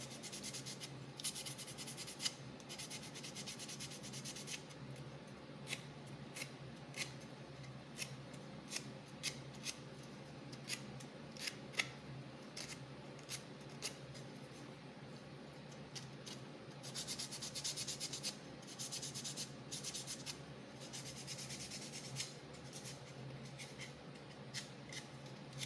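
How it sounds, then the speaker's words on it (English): A wooden compression strut's end grain is scuffed with abrasive, giving a faint, close, steady rubbing texture broken by short scratchy strokes and small ticks, with no talking. "I'll go ahead and I'll scuff the end grain, even though the end grain is not a good joint anyways"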